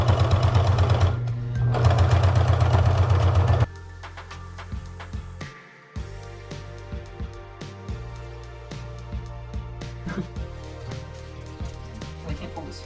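A sewing machine pushes very thick thread through heavy floorboard material during a sailboat refit, running in a loud rapid buzz, then slowing to labored, uneven thumping stitches as the machine strains near its limits.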